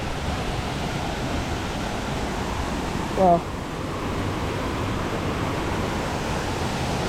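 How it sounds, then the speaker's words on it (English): A waterfall beside Route 1095 between Chiang Mai and Pai in Thailand, heard as a steady, broad rushing roar throughout, with one person briefly exclaiming midway. "we can finally hear and see the waterfall."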